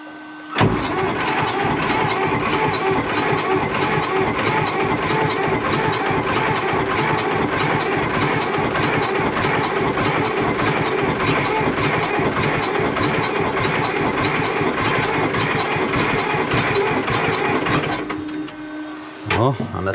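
A firewood processor's engine cranks over and over in a long, continuous start attempt, loud and close, running steadily for about seventeen seconds before cutting off.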